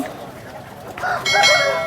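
Roosters call at a busy Vijayawada rooster market, a crow rising in the last second over crowd murmur and faint clucking.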